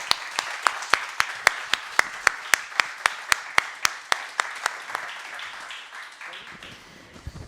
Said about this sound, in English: please, a big round of applause for my wonderful panel